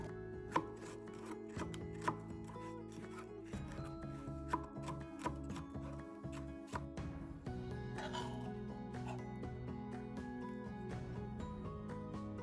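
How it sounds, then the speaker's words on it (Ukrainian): A knife cuts a red pepper into strips with quick, steady chops on a board, a continuous rhythm of close, crisp cuts. "Також нарізаю його соломкою середнього розміру."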